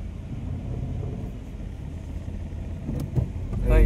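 Steady low rumble of a four-wheeler car climbing a mountain road toward Matheran, a continuous engine and road drone throughout, swelling louder near the end, with faint voices in the background.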